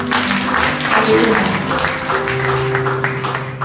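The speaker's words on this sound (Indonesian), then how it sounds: "Tepuk tangan bagi saudara" A church congregation applauds during a sermon, the clapping mixed with sustained keyboard or organ tones and a voice over it, loud and continuous.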